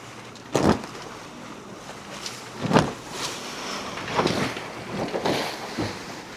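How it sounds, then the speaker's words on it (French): A sailboat under engine pounding through short, steep choppy waves on a current, with repeated slapping hull hits roughly every second or two over steady wind noise and a low hiss of water. "Ça fait presque 1 heure de moteur, 1 heure qu'on se fait secouer."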